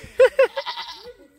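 A goat on a small homestead lets out two short, loud bleats close to the microphone, then a quieter, wavering cry that fades away.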